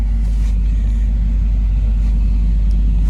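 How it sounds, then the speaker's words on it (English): A car engine idles steadily while warming up in near-zero-degree cold, a loud constant low rumble with no change in pitch, heard close up and alone. "while my car is heating up, while it is close to 0 degrees"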